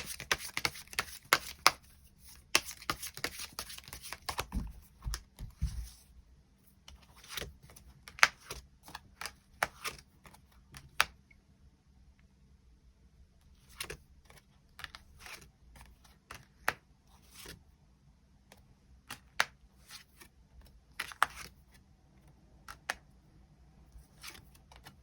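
Tarot cards are shuffled and drawn with rapid riffling bursts early on, then scattered light taps and flicks of cards laid out, close and quiet, with no talking.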